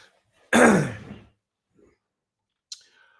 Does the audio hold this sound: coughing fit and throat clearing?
yes